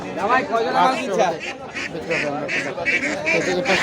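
Ducks and geese at a traditional village market quack and honk in short repeated calls, close and fairly loud, amid market voices.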